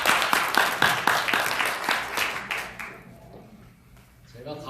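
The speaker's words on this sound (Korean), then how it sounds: "큰 박수로 듣도록 하겠습니다" An audience at a forum breaks into a few seconds of brisk clapping that fades out quickly, followed by a quiet pause before a voice begins.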